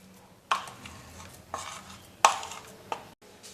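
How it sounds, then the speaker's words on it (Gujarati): A spoon stirring a green barfi mixture made for fasting, with several distinct scraping strokes against the pan, close and fairly loud with quiet gaps between them. "હવે આપણે સારી રીતે મિક્સ કરી લઈએ"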